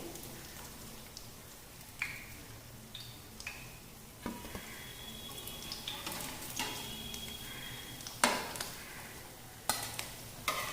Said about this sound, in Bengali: একইভাবে আমি বাকি পনিরগুলো এই ময়দার ব্যাটারের মধ্যে ডুবিয়ে তেলের মধ্যে ছেড়ে দেব